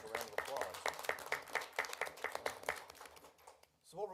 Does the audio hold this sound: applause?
yes